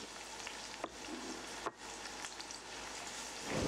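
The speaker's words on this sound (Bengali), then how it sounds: "এবার পেঁয়াজ এবং রসুনকে একসাথে 2 মিনিট লো হিটে ভাজবো।" Onion and garlic fry in butter over low heat in a gentle, steady sizzle, with a couple of soft utensil knocks.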